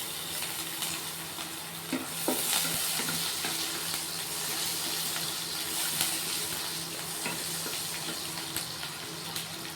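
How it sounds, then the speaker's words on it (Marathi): Cumin seeds crackle in hot oil as chillies are dropped in for a poha tempering: a steady, soft sizzle with scattered small pops, fairly quiet throughout. "जिरं तडकायला लागलं की मिरची टाकून घ्यायची"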